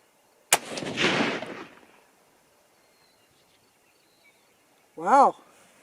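A single rifle shot cracks loudly while ammunition is test-fired outdoors, followed by a short rolling echo, silence, then a brief chirp-like tone a few seconds later.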